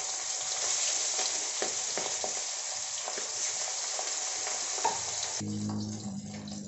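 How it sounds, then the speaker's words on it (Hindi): Hilsa fish fries in hot oil in a kadai with a dense, continuous close sizzle and occasional spatter, then a sudden cut to a quieter, humming background near the end. "एबे हमें माछ को फ्राई करबा।"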